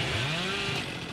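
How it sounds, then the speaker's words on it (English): Hillbilly's chainsaw in Dead by Daylight revs with a rising then steady droning whine for about a second, filling the whole clip at moderate volume with no voices. "Or even just chainsaw down a straightaway like that"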